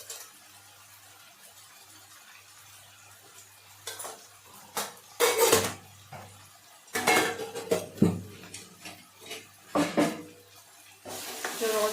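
A metal spatula scrapes and clatters in a pan as chopped tomatoes cook with fried garlic and onion, giving intermittent stirring bursts over a faint low hum and quiet sizzle.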